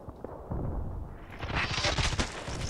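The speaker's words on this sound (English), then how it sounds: "Grenade." A grenade goes off in the shooter game Contract Wars, a loud broadband blast that swells partway through and rumbles on with crackling debris to the end, with no talk over it.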